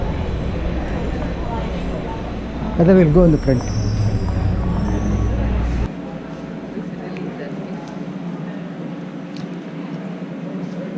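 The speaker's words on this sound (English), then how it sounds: "Next train arrives in 1 minute for Concourse C." A heavy, steady rumble of an airport transit train to Concourse C rolls in close by and then cuts off abruptly, while people talk over it.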